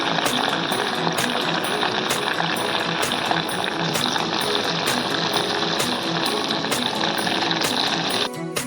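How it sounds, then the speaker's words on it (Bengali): Chicken pieces fry in hot white oil, giving a dense, continuous crackle and sizzle heard close up with no talking, until a brief dip near the end. "আমার তেলটা গরম হয়ে গেছে এবার চিকেনগুলো দিয়ে দেবো এইভাবে হালকা বাদামি কালার করে আমি ভেজে নেবো"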